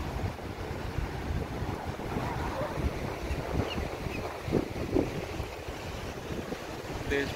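Waves wash onto a beach at Santa Barbara, California, under heavy wind buffeting the microphone, a steady rough roar with occasional louder surges.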